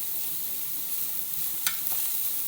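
Zucchini noodles frying in a large pan, giving a steady, even hiss of sizzle throughout with a brief sharper crackle near the end; no talking.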